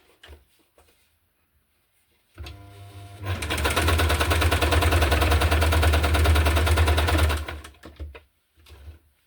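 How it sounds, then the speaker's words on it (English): A sewing machine sews a straight stitch through the pages of a hardcover junk journal, a close rhythmic whirring burst of about five seconds set between quiet pauses. "So I wanna sew on this part with a straight stitch"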